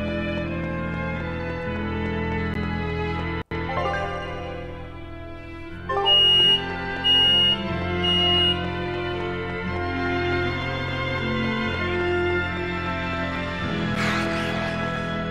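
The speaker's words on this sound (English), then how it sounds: "People are cooking downstairs, so the alarm is going crazy." A smoke alarm set off by cooking downstairs gives three short, high, evenly spaced beeps midway through, heard faintly indoors over steady background music.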